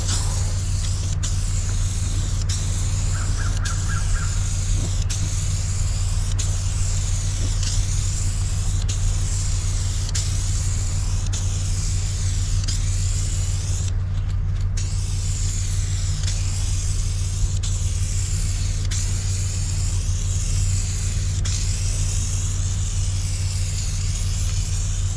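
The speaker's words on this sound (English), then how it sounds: "We're spraying this wide." Rust-Oleum spray paint hissing from a can onto metal in wide, overlapping passes, a steady broadband spray sustained throughout over a constant low hum of background machinery.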